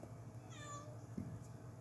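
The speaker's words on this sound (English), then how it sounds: "we've got cats coming" A cat gives one short, fairly close meow at feeding time, rising over a steady low background hum.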